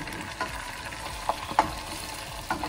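Onion, tomato and garlic fry in olive oil alongside seared meat for Moroccan-style white beans, a quiet, steady sizzle broken by a few light stirring knocks.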